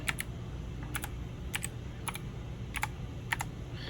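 Password keys typed on a computer keyboard during a Windows setup, a few short bursts of clicky keystrokes spaced about half a second apart over a low steady room hum.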